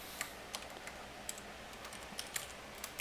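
Keystrokes on a computer keyboard while entering a line of Python code, a handful of light, irregular clicks spaced over a few seconds, quiet and close with no talk.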